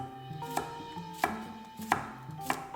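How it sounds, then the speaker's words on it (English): A knife slicing a cucumber into half moons on a cutting board, four sharp distinct cuts at a steady unhurried pace, close and clear with no talk. "Slice a cucumber into half moons."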